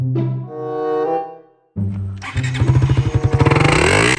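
A motorcycle engine sputters briefly, pauses, then starts and runs with a loud, pulsing throb close by.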